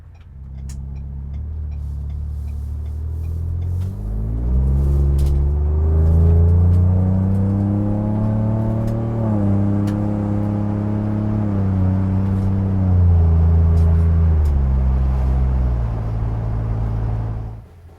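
A 2021 Ford Bronco running a test MBRP exhaust with a 6-inch body and 2 3/4-inch perforated core, idling then revving up into a deep, sustained drone that rises and falls before settling back, close and alone.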